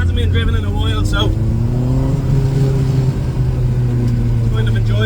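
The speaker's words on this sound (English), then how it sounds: "Get a quick spin in the car." Honda VTEC car engine revving on a short drive after sitting unused for a while, a loud steady drone that rises in pitch as it accelerates and fills the whole clip.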